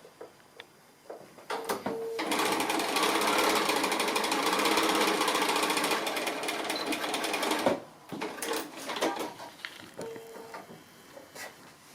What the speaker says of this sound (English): finish that 1/4 inch seam off down there